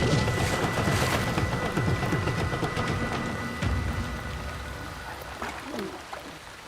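Rain falling by a river while out fishing for catfish, a dense steady hiss with low rumbling underneath that slowly fades over several seconds, no voices.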